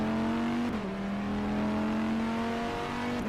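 Aston Martin GTE race car from rFactor 2 at Sebring, its engine holding a steady, sustained drone with a brief dip in pitch, loud and close throughout.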